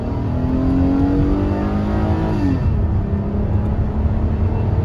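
Loud, close engine drone of a Hyundai Coupe accelerating with an old Korean automatic gearbox, its rising tone dropping as the transmission shifts, then climbing again under steady road rumble.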